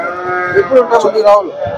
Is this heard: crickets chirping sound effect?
no